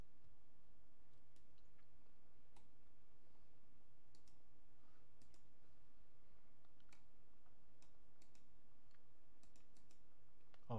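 A computer mouse clicks in AmigaOS, with scattered light, close clicks at irregular intervals over a steady low hum.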